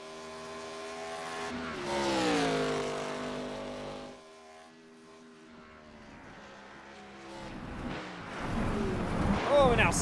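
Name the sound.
race cars on Road Atlanta track in racing video game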